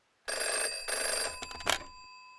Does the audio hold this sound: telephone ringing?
yes